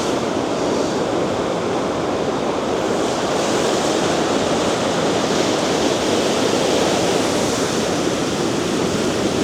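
River water flows in a steady, continuous rush that stays loud and even from start to finish, with no voices over it.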